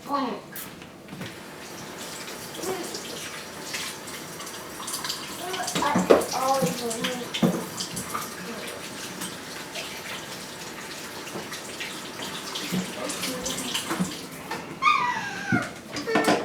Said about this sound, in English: let me wash my hand first